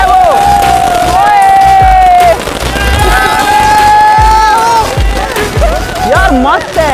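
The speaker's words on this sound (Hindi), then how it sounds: "कितना मस्त चला यार ये पटाखा" A popcorn firecracker goes off during Diwali with scattered sharp pops and crackles, surrounded by excited shouting and cheering voices close by.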